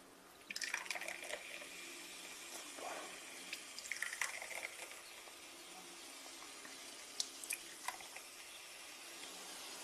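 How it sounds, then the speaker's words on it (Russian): Cola pours and fizzes softly into three glasses, with quiet splashes and trickles over a few seconds, no talking. "Наливаю в 3 бокальчика колу"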